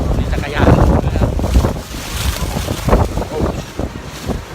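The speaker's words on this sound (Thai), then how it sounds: "ลมแรงมากครับ" Strong typhoon wind roaring and buffeting outdoors at a street junction, loud gusts pounding the microphone continuously with someone talking through it.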